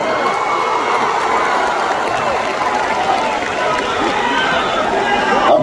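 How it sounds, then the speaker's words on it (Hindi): A crowd claps and cheers for Bhojpuri star Pawan Singh, a thick continuous wash of hands with shouts and chatter mixed in, loud and close, with voices audible throughout. "एक ताली बजा के आशीर्वाद दे रहे।"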